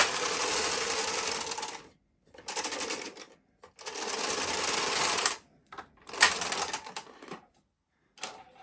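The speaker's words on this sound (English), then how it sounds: "we're going to knit two rows on alternate needles with the smaller key plate size." A Bond knitting machine carriage makes repeated passes across alternate needles for two rows, each sweep a loud close rattling clatter lasting a second or two, separated by short pauses, with no talk.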